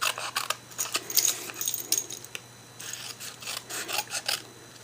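Scissors cutting through sheet material for a magnetic craft, a series of close, scratchy rasping snips in uneven bursts with short pauses between, fairly quiet and with no talking.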